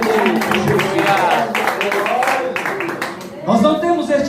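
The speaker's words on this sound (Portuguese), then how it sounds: "Os irmãos podem vos assentar com as fortes palmas para a glória" Church congregation breaking into strong clapping, many hands beating together under someone speaking loudly over them, with a brief swell near the end.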